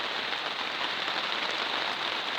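Steady rain falls during a thunderstorm in Essex, UK, an even, moderately quiet hiss of drops on surfaces with no thunder or voices.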